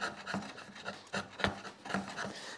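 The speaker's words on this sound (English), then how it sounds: "if you work bevel down with a good sharp chisel, you'll be amazed at how quickly you can actually take this down" A sharp chisel, worked bevel down, pares wood on a hand-tool three-legged stool project, giving a close series of short rasping strokes at an uneven rhythm.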